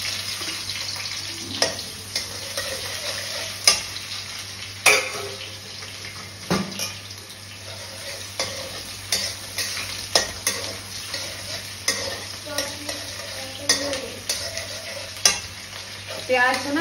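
Onion frying in a pan while being stirred, a constant sizzle punctuated by regular clanks and scrapes of a utensil against metal, close and fairly loud.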